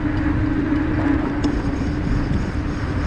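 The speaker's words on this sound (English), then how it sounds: "Big car." A big car rolls past on wet pavement, a continuous loud rumble and tyre hiss heard from an electric fat-tire mountain bike, with no break in the noise throughout.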